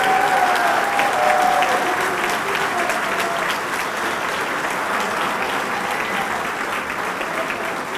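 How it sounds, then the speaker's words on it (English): At a 2018 firefighters' awards ceremony, an audience gives a loud, sustained round of applause for the last surviving charter member of Fire Station 3. Many hands clap evenly throughout, easing only a little near the close. "a special round of applause for George."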